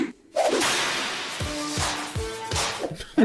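Wrestler Bianca Belair's whip-crack sound effect sounds as several sharp, loud cracks with swishing whooshes, repeated in a quick series.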